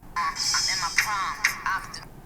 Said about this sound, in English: Is that the notification sound?